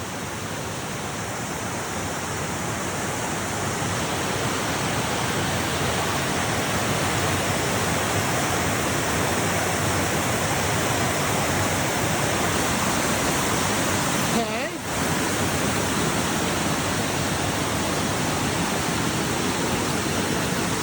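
Steady, loud rushing of a brushy creek at the bottom of a slope near a lake, continuous for the whole stretch with only a brief dip in the middle.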